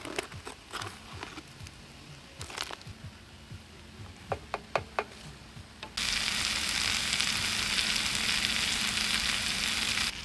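Chutney sizzling in a pan at a campsite by a dam at night, with scattered clicks and clatter at first, then a loud, steady frying hiss that swells and holds to the end.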